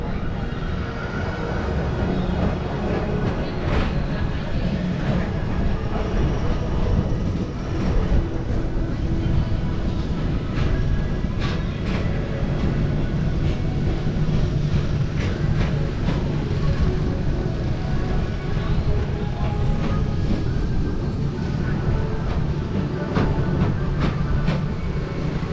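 Tomorrowland Transit Authority People Mover ride vehicle at Disney rolling steadily along its elevated track, a continuous close rumble with faint clicks and rattles throughout, no one talking.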